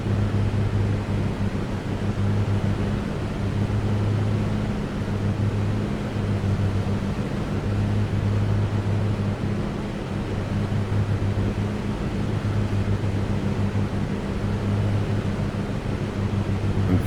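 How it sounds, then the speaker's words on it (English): Steady droning piston engine of a Piper Comanche in the A2A flight simulator, a damaged aircraft limping home, with a constant low hum and tonal bands holding evenly and loud throughout, no voices. "trying to keep the engine running as smooth as possible."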